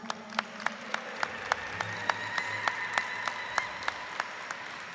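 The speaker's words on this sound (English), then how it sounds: "Can we get an applause for all of them?" Sparse, faint claps at an American Indian Heritage Month celebration, a handful of distinct hand claps spaced out and fairly quiet, like a small scattered audience over a low hum.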